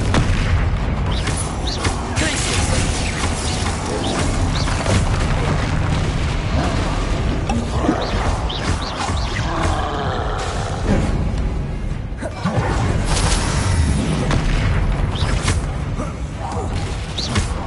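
Repeated Confringo blasting-spell explosions from Hogwarts Legacy, booming thuds in a dense, continuous wash of combat noise with spoken voices over the top.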